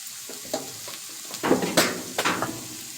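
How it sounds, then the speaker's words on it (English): Onions dropped into a frying pan, bursts of sizzling as they hit the hot surface and are moved around, close and fairly loud over a quiet background. "I'm going to add these onions."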